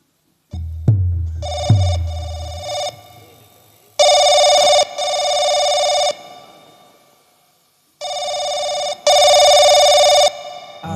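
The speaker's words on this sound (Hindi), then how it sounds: "अभी हम फोन मिलाते हैं।" An old-style telephone bell rings loudly in two double bursts during a call. A couple of dull thumps come before the first ring, and there is no talk.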